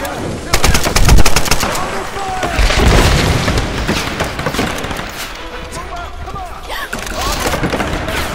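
Rapid gunfire from a fast-firing, inaccurate gun in the Tomb Raider video game, loud bursts of repeated shots with booming impacts, clustered early and continuing in sporadic volleys over game sounds.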